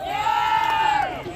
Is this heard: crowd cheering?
yes